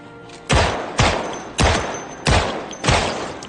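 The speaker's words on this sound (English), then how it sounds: "I'm going to go ahead and discharge the firearm, actually" Five loud 9mm handgun shots in Project Zomboid ring out at a steady, fairly even pace about half a second to a second apart, each a sharp crack with a short decaying tail.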